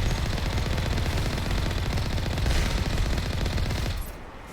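A turret in Mass Effect Legendary Edition fires a loud, continuous stream of rapid machine-gun shots that runs steadily for about four seconds before dropping off, close and dense with no voices.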